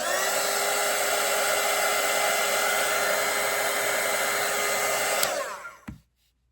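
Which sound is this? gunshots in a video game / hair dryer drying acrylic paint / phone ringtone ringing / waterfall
hair dryer drying acrylic paint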